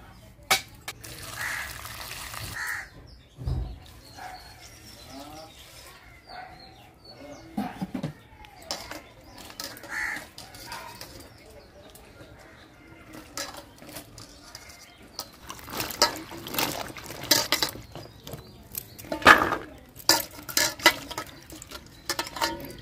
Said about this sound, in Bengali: অনেকগুলো সিম তো সিম কাটা হয়ে গেছে, এখন ভালো করে জল দিয়ে ধুয়ে নিই।